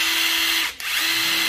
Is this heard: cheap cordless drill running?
yes